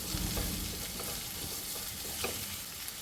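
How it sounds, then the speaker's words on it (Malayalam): Chopped beans and softened onions fry in a pan for paneer fried rice, giving a dense, steady sizzle with soft stirring scrapes throughout, close up and with no voices. "സവാള വാടിയിട്ടുണ്ട് ഇനി അതിലേക്ക് ബീൻസ് അരിഞ്ഞത് നാല് ബീൻസാണ് ഇട്ടിട്ടുള്ളത്"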